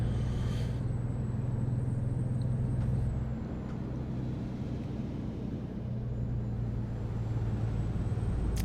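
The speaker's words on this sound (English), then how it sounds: "It adds the engine sound, the air brake sound, and the indicator sound." Low diesel engine rumble of a truck in American Truck Simulator with a modded engine sound, with a sharp air-brake hiss near the start, while the steady idle drones on throughout with no talking.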